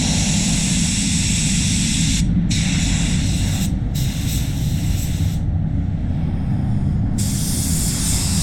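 A spray gun applies Cromax 610 basecoat paint in a steady, loud, unbroken hiss with a deep airy rush beneath, the high spray briefly dropping out a few times during the pass.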